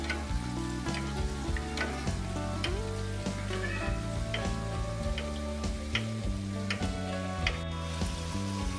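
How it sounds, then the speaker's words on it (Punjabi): Potato tikkis frying in hot oil on a medium flame, giving a continuous crackling sizzle with scattered pops and a few light utensil clicks, close and steady throughout, without talking. "3-4 ਮਿੰਟ ਹੋ ਗਏ ਨੇ ਜੀ ਟਿੱਕੀਆਂ ਨੂੰ ਫਰਾਈ ਹੁੰਦੇ ਆ"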